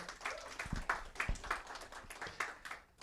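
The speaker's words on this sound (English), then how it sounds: "we could give them a round of applause" Small gathering at a community screening event clapping in a brief, scattered round, individual claps audible and fairly quiet in a room.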